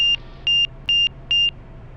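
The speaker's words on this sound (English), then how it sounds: "There's the angle of attack beeping at me." An aircraft angle-of-attack warning sounds during the landing flare, four evenly spaced electronic beeps, each about a fifth of a second long, loud and clear over a low cockpit hum.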